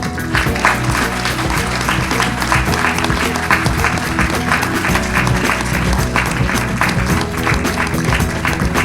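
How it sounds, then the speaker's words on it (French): Loud, sustained applause from a large crowd, dense and steady clapping throughout with no pauses. "Je crois qu'on peut vous applaudir très fort."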